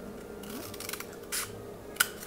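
Scissors snipping through a cardboard toilet paper roll for a craft project: a few quiet, short cuts and crisp snaps over faint background noise, with nobody speaking.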